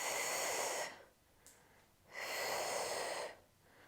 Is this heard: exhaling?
yes